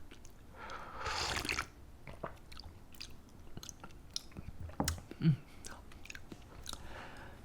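Spicy Tom Yum noodles and broth being eaten up close, with soft wet chewing, slurps and small squishy bites scattered through a quiet room, one sharper bite near the end.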